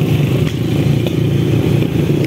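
A motorcycle engine runs loud and close, a steady throaty growl with faint clattering, holding at a constant pitch throughout.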